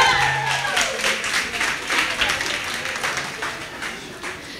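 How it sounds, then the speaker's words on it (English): Audience applause at a cultural show and dinner at the Bangalore Golf Association, a broad wash of many hands clapping steadily at moderate level, with some voices mixed in. "A big applause from them."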